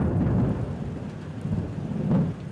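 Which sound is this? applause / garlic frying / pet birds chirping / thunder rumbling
thunder rumbling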